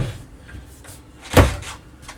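A fully extendable kitchen drawer in a 2021 KZ RV Escape E17 Hatch ultra-lightweight travel trailer shuts with a single solid thump midway, surrounded by soft rustling and handling noises.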